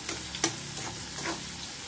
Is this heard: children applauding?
no